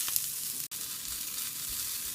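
A steady, bright sizzle of shallots, dried red chilies and curry leaves frying in hot oil for a tempering, continuous and fairly quiet, with one brief dropout.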